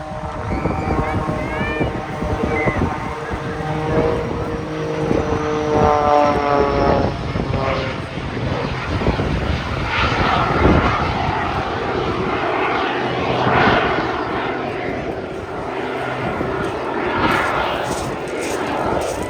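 An aerobatic stunt plane roars past in a knife-edge pass at a seaside air show, its propeller engine loud and close, with the pitch climbing and falling as it sweeps through and fades.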